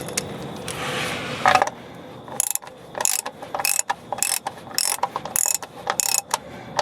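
A 19 mm wrench ratchets on the CVT pan bolts of a 2012 Nissan Rogue 2.5 S, giving a series of sharp, close clicking bursts in an uneven rhythm after a brief scraping, with no talk.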